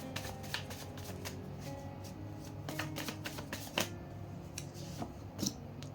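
Tarot cards being shuffled and drawn, a run of quick crisp riffling snaps and flicks, close and fairly steady, with a low hum beneath and no talk.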